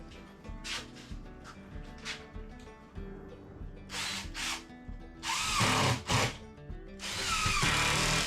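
A power drill drives screws into sheathing on a workshop wall in several short, sharp whirring bursts, with quieter handling noises in between.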